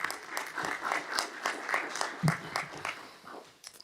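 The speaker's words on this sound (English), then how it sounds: "So you guys give your teachers a round of applause" At a school board of education meeting, an audience claps for AP teachers with fairly sparse, distinct claps that rise and fall in small bursts, with some voices mixed in.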